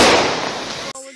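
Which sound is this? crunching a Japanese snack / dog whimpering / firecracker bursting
firecracker bursting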